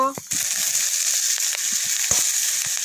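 Chopped capsicum is stirred into hot oil in a frying pan alongside gima shak greens, a steady close sizzle marked by a few sharp spatula knocks and scrapes.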